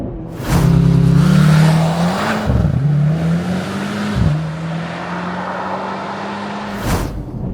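A Mercedes-AMG C63 S E Performance Estate accelerates hard in track mode, its loud engine note rising through gears with brief dips at each shift. A short burst of noise comes near the end.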